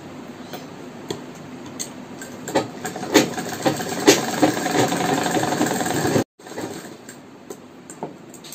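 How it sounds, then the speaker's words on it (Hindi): A sewing machine runs steadily while stitching a blouse strap, a close mechanical whir with rhythmic ticks and louder clacks, stopping briefly before resuming, with no talk. "इस तरह से हम चार बार सिलाई लगाएंगे।"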